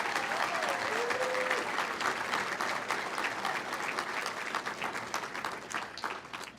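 An audience at the 2021 Greater Cincinnati Business Hall of Fame ceremony applauds the laureates, a dense, steady round of clapping that carries on loudly for the whole stretch without fading.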